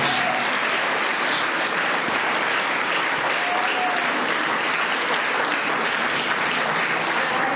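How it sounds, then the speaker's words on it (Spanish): A church crowd bursts into loud, dense, continuous applause for the Lord, many hands clapping together at close range without a break. "Denle un aplauso al Señor si se lo va a dar"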